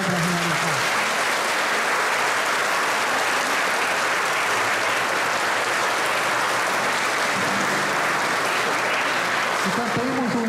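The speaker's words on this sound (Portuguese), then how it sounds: "Vamos, assim, com alegria, aplaudir, né, esta obra realizada." A church congregation applauds a restored altar, with steady, dense clapping from many hands that fills the room for the whole stretch, loud and continuous.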